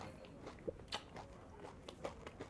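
Soft close-up chewing of super-soaked Grape Nuts barley cereal, a few quiet irregular moist bites and crunches at low volume with no talking.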